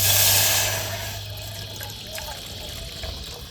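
Water poured into a pot before boiling betel leaf stems, a steady close splashing pour that is loudest at the start and then settles into a softer trickle over a few seconds.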